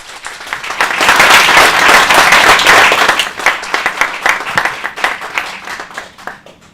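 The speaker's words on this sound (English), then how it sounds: "give yourselves a round of applause" An audience at an Open Source Bristol meetup applauds loudly, a dense wash of clapping that swells for about three seconds and then thins into scattered, tapering claps.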